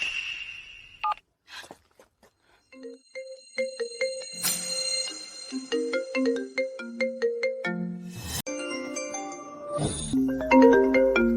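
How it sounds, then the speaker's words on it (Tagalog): A mobile phone ringtone plays a bright electronic melody of quick repeated notes that builds and continues through the whole stretch, loud and clear with no talking. "Bakit ko maririnig ang ringtone ng nanay ko doon?"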